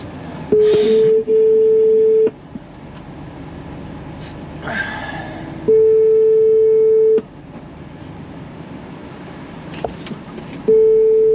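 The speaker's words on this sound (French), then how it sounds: "je vais appeler Vincent vite fait" A phone placing an outgoing call gives three long, steady ringback beeps separated by pauses, loud and close over faint background noise.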